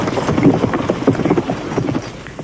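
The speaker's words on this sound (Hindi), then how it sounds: "शिखंडी घोड़े पर सवार कुरुक्षेत्र की ओर चल पड़ी।" Hooves clip-clop unevenly under a rider on horseback, a fairly close and busy patter of hoof strikes with some rustle and wind noise, with no one speaking.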